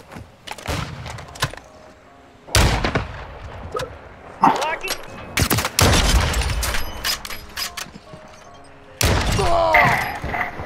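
Gunfire in the video game Modern Warfare 2, with sharp loud shots and crackling bursts separated by quieter gaps, some mechanical clicks between them, mixed with game sounds.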